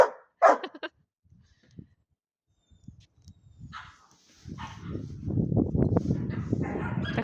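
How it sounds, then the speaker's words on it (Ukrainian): A dog barks sharply a couple of times up close, then things go quiet before a steady rustling noise builds. "Та ти так гавкаєш, що ніхто."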